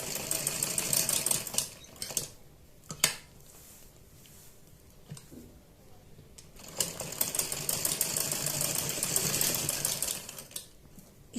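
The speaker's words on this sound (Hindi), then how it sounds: "यहां पर सिलाई लगाएंगे, और इस बॉर्डर को हम चारों तरफ से इस तरह से लगा देंगे" A sewing machine stitches a saree border onto a kurti in bursts of rapid mechanical clatter, with short pauses between runs and some handling noise, no talk.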